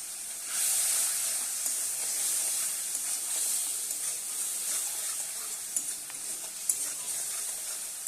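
Masala for a Bengali fish curry frying in a pan, a steady soft hiss and sizzle with faint stirring scrapes, fairly quiet and continuous with no voices.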